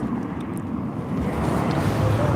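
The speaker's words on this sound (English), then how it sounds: "You can hear the plane, it is massive." Large airplane passing overhead at a beach, a steady broadband low roar that builds slightly over the moment, mixed with outdoor wind noise and no talk.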